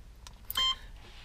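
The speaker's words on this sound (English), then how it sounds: "I am going to turn the beep off" A Philips ADR610S dash cam in a 2018 Dodge Charger ScatPack gives one short, bright electronic beep in a quiet cabin, with a faint soft tap just before it.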